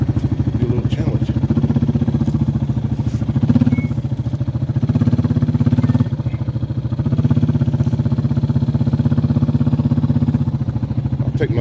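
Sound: four-wheeler ATV engine running

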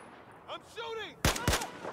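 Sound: gunfire in video game Battlefield 4

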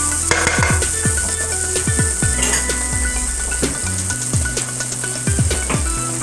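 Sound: butter sizzling in a hot frying pan

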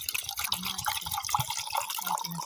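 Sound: water spurting and dripping

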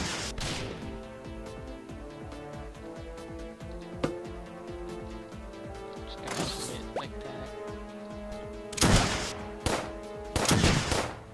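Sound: gun firing in Starbound video game

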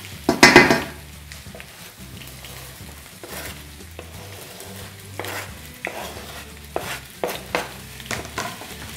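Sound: potatoes and onion frying and stirred in a pan

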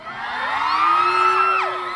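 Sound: crowd screaming and cheering at fan event

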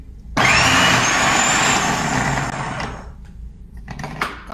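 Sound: food processor shredding an onion with the shredder disc

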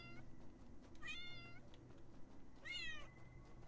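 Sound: cat meowing in the video game Paws

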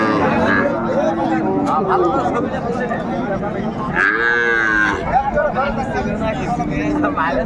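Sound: Sahiwal cow and calf mooing at a cattle market

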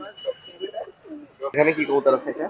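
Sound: pigeons cooing at market

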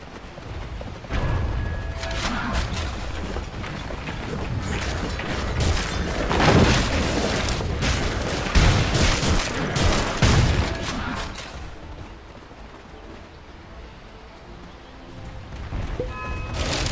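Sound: tower under attack in Dota 2, a video game

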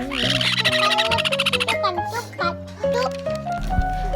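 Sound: sun conure parrot chicks calling loudly

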